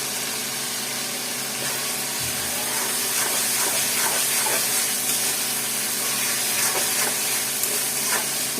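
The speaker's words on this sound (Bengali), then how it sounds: "কষাতে থাকবো একটু একটু শুকাবে আর কষাতে থাকবো" Dried bamboo-leaf fish shuttki is sautéed in a pan with green chilies and coriander leaves, giving a steady close hiss and sizzle with faint scraping stirs throughout.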